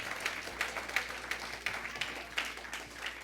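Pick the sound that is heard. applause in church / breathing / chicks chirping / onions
applause in church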